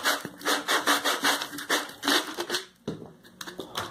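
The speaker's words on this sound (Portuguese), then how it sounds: "Agora vamos passar a lixa aqui, ó." Sandpaper rubbed against a plastic part to open a thread for a homemade automatic bird waterer, giving rapid rhythmic scratchy strokes, close and fairly loud, with a brief pause near the end.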